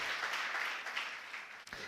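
A church congregation applauds, with even clapping from many hands spread through the room, fairly faint and continuous with no voices heard.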